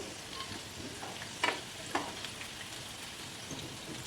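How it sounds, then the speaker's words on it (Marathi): Potato rolls frying in oil give a soft, steady sizzle with a couple of brief louder crackles or pops, heard close and quiet without any talking. "आता आपण दुसरी बॅच तळून घेऊ"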